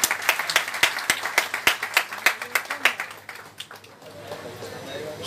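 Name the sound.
audience applause at farewell ceremony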